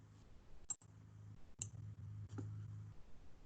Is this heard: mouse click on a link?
yes